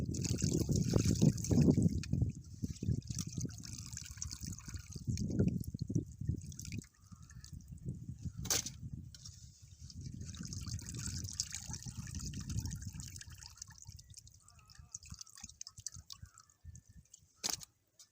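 Tilapia river fish being rinsed by hand in a basin of water, steady trickling and sloshing with drips, close and fairly loud, with brief pauses between swishes.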